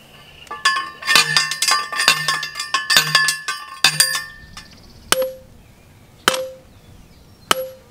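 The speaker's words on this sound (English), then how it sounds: "get your driver, and hammer it in the ground" A metal post driver hammers a post into the ground for an off-grid solar array: a quick run of ringing metallic clanks, then a few single strikes spaced about a second apart, close and sharp.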